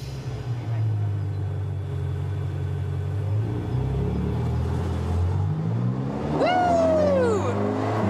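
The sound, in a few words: red Ferrari accelerating hard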